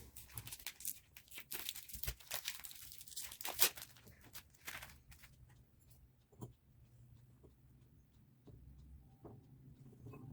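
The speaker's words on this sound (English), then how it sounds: "Now let us break the Oreo into small pieces." Oreo biscuits being broken into small pieces by hand, giving faint, irregular snaps, crinkles and crunches, busier at first and then sparser, with no talking.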